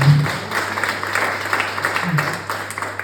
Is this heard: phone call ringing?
no